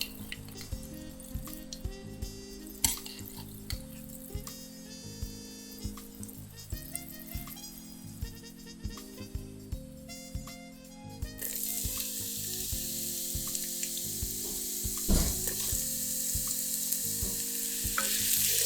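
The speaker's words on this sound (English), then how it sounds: "Heat the pan, add the garlic soaking oil." Garlic soaking oil hits a heated pan and bursts into a bright, steady sizzle that swells loud in the second half, after quieter clinks and taps at the start.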